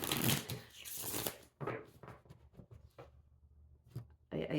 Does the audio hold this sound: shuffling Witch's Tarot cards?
yes